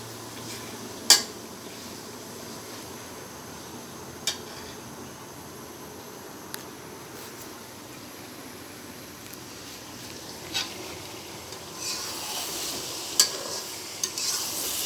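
Mango pickle with vinegar is stirred in a pan, giving a few sparse, soft scrapes and clinks of the spoon over a low steady hiss, with no talking.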